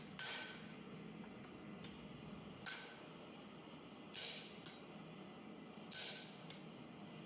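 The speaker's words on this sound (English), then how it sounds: "I'm going to take another pass with my chisel." A chisel struck by a hammer on hot steel at the anvil while forging a heart hook, five or six sharp ringing blows at uneven intervals against a low steady background hum.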